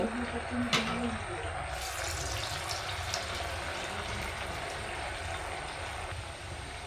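Homemade poha kurkure pieces are lowered into hot oil over a low-to-medium gas flame, producing a steady, dense frying hiss that stays fairly even throughout.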